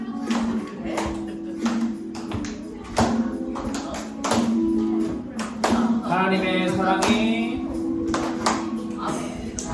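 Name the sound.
clapping along with singing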